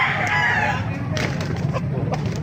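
A three-year-old rooster crows loudly up close, followed by scattered clucks and rustling against a noisy outdoor background.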